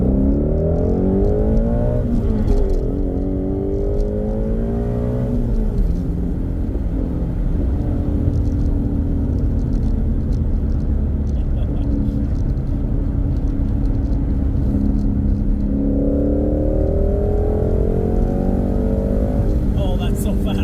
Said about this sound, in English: we've got the GT350 out to get the RPMs up there.